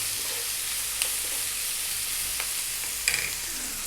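Onion goes into hot oil with fresh curry leaves for a tilapia fish curry, giving a constant, even sizzle close by, with a couple of faint clicks of a utensil and no talking.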